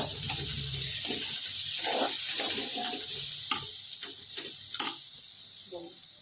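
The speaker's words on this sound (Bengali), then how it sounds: "মশলাগুলো আমি সব ভালোভাবে কষিয়ে নেব।" Spice paste with Kashmiri chilli powder being sautéed for a fish curry, a steady close sizzle in the pan with intermittent scraping and clinks of a spoon stirring, no voices.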